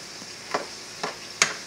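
Broccoli and white mushrooms cooking down in a pan, a soft sizzling bed punctuated by three quick stirring scrapes, close and moderately loud.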